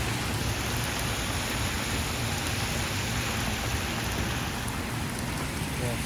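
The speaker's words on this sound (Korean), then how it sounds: "비가 내리고." Steady rain falls in San Francisco, a dense, even hiss of drops that stays loud and unbroken throughout.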